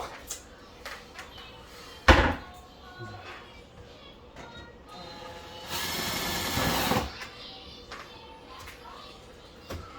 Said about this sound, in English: we have the drill because it's quicker